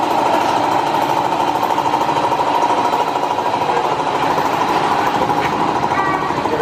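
Steady mechanical motorcycle engine drone with a rattling, knocking texture at a motorcycle repair shop in Tagum City, Philippines, continuous and fairly loud, with faint voices mixed into the background.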